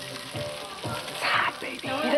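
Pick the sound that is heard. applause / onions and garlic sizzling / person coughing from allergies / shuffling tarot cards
onions and garlic sizzling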